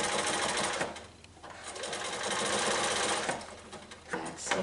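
A sewing machine stitches the final line of binding on a small quilt, running in steady continuous bursts with two brief pauses, close and loud with no talk over it.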